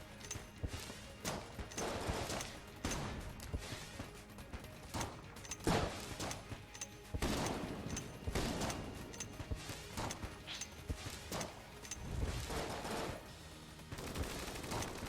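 Rapid volleys of gunfire from the Bullet King boss fight in Enter the Gungeon, bursts of sharp shots mixed with the player's own shooting, crackling in irregular clusters at moderate volume.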